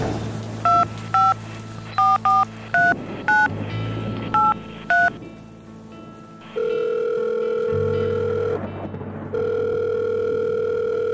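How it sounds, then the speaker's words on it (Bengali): Telephone dialing sound effect in a Bengali audio story: a quick series of separate push-button tones, then a steady dial or ringback tone that pauses briefly and resumes, clear and close with no voices. "বাড়ি পৌঁছতেই সে টেলিফোন করল।"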